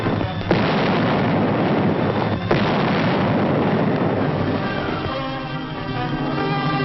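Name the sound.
155mm Long Tom artillery guns firing, WWII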